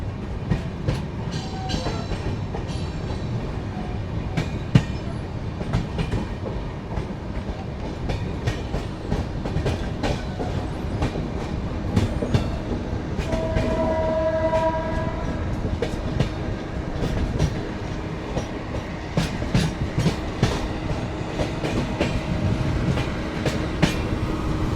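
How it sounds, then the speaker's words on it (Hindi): Karnataka Sampark Kranti express train, locomotive leading, rounding a sharp curve: steady loud rumble of wheels and carriages with repeated clickety-clack rail joints and brief squealing flange tones midway, continuous throughout without voices. "वो देखो कितना शार्प है, वो लोकोमोटिव मोड़ना शुरू हो गया एकदम।"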